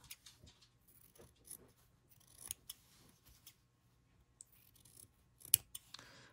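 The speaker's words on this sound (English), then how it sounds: "trim your seam allowances. So, you know, cut your corners." Sewing scissors trim fabric seam allowances and cut corners, producing a series of quiet, close snips in irregular clusters with small rattles between them and no speech.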